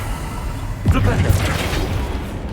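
Flipendo, the knockback spell in Hogwarts Legacy, goes off as a sudden loud whooshing burst with a booming thud about a second in, followed by a shimmering, voice-like tail over low game ambience.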